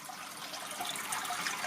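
Water flows out of a pond filter outlet with a soft, continuous hiss and trickle. It is fairly faint and close, with no voices.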